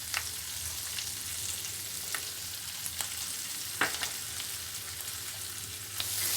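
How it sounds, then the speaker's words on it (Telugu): Curry leaves and spices fry in bubbling oil for an Andhra-style chicken pickle, giving a continuous close sizzle broken by a few sharp pops and crackles. "మీరు చూడొచ్చు, బబుల్స్ వచ్చి బాయిల్ అవుతుంది కదా ఆయిల్లో"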